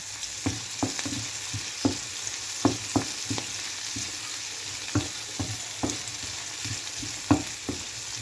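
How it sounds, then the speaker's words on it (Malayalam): Small shallots sauté in coconut oil with a steady low sizzle, punctuated by regular scraping stirs of a spoon against the pan, close and continuous, with no voices. "ഈ ചെറിയുള്ളി നല്ല കോക്കനട്ട് ഓയിൽ ഇങ്ങനെ വഴറ്റിയെടുക്കുമ്പോൾ"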